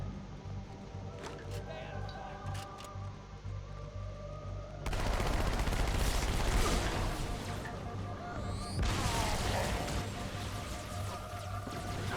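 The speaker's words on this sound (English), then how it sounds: "I'm going to switch into the SMG here." SMG gunfire in the Halo 2 mission Outskirts, with rapid bursts that grow louder and denser partway through and continue amid other game noise and effects.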